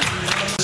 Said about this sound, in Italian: con la musica non ci resta che fare un grande applauso a questi ragazzi tutti insieme